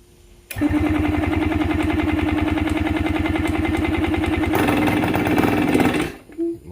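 A Yamaha 125 enduro motorcycle engine with a fresh spark plug and fresh gas fires up and runs loud and close, a steady rapid two-stroke putter that roughens as the revs change, then cuts out near the end.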